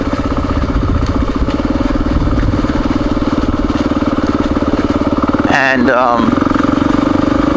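A light Yamaha XT four-stroke dual-sport motorcycle runs steadily and loud close by with a low, even engine drone, and a brief rev swell near the end; someone talks over it.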